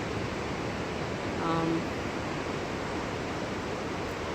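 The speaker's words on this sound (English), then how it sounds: "I hope the sound of the crashing waves behind me makes up for the lack of lighting." Ocean waves wash onto the shore at night, heard as a faint, steady broadband rush with no distinct individual crashes.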